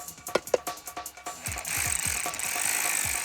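A ratchet clicks in short, rapid bursts while bolts are tightened on a V-drive, then a harsher metallic whir takes over with a few deeper clunks, all close by and without talking.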